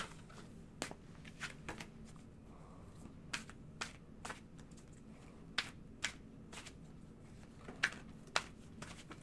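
Tarot cards being shuffled by hand indoors: soft, scattered papery clicks and riffles come in irregular bursts over a faint, quiet room hum.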